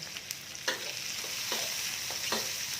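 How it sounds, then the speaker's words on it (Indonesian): Ginger and lemongrass sautéing in a pan with spring onion stalks, a steady close sizzle broken by several sharp scrapes and stirs of the spatula. "Tumis dulu sampai wangi."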